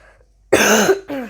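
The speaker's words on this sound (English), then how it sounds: "I have a really bad hay fever cough." A harsh, loud hay fever cough burst followed by a second shorter cough, close to the microphone, after a brief quiet moment.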